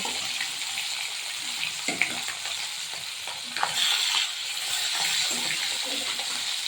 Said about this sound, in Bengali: এদিকে মাছগুলো ভাজা হতে থাকুক